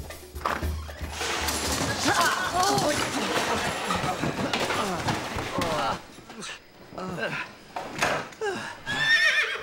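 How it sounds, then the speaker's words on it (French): A horse neighs loudly and close by, a long shaky whinny that breaks into snorts, followed by a few clip-clopping hooves and shorter calls. "T'as entendu ça? Un cheval!"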